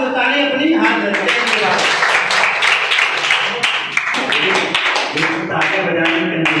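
An audience at a school Independence Day celebration claps hard, with dense irregular hand claps running steadily through, plus voices mixed into the applause.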